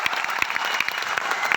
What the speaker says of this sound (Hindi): ताली बजा दो किताबें देने वालों के लिए।